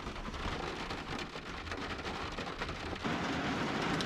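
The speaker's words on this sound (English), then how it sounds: "it's starting to rain pretty good" Steady, dense rain patters on surfaces nearby in a Texas marsh, a constant hiss that swells slightly louder toward the end.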